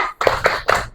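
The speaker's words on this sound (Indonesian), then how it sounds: "Oke, tepuk semangat." A school class claps together in a quick rhythmic pattern, three sharp bursts of many hands in under a second, loud and close.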